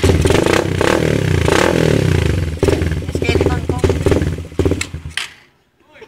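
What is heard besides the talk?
motorcycle engine revving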